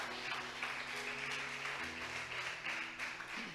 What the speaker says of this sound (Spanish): Y le damos un grande aplauso a Dios